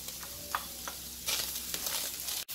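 Spices, cilantro, culantro and garlic fry in a pan with a close, hissing sizzle broken by a few scraping stirs, growing busier midway before a brief drop at the end.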